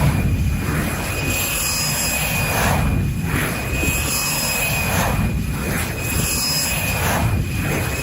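A jet engine roars loudly and continuously as it throttles up, a dense broadband rush with a steady high whine running through it and rhythmic surges in the roar.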